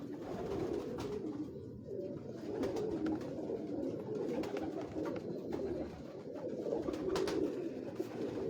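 Pigeons on a Lahore rooftop coo softly and repeatedly over a faint, continuous background murmur, with occasional sharp clicks and rustles.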